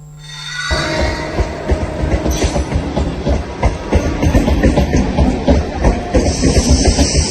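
A Mumbai suburban local train rumbles along at close range, its wheels clacking in a fast, steady rhythm over a continuous roar.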